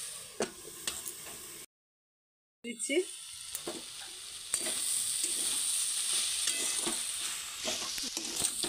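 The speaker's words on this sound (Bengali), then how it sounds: "এটা আর একটু ভাজা ভাজা হবে তারপরে জল দেবো, তাই আমি একটু ঢাকা দিয়ে দিচ্ছি" Masala frying in a covered pan, a soft, steady sizzle with occasional light clinks and a brief silent break, heard up close without talk.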